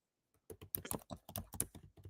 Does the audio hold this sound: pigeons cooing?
no